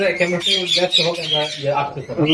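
Indian ringneck parrot, a big green male, giving repeated harsh squawks in a rapid rhythm, loud and close, with people talking nearby.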